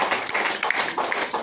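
An audience clapping for a student honoured at an award ceremony, a dense, steady patter of hands lasting the whole moment with no voices over it.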